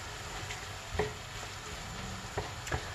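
Tomato paste and pepper paste being stirred into a pan of aubergine kebab, giving a faint steady sizzle with a few soft scraping clicks of the spoon, close and quiet with no talk.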